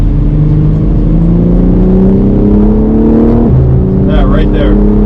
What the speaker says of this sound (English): It makes this really nice kind of sound every time you hit the upshift when you're full throttle.